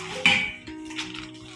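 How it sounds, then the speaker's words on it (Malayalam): A lightweight steel lid from a new 5.5-litre Butterfly pressure cooker is handled close by, giving a sharp metallic clank followed by a couple of softer knocks and rattles. "വെറുതെ കുക്കറിന്റെ മൂടിയാണ്."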